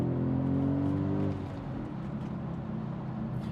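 An Audi S5 accelerating, heard from inside the cabin as a steady, loud engine drone with a gear change partway through, then a continuing lower hum under the road noise.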